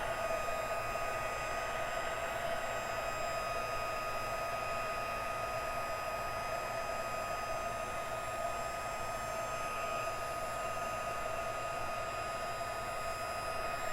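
A heat embossing tool melts emboss powder on a stamped card, giving a loud, steady blowing whir that holds without a break for about fourteen seconds, with no voices.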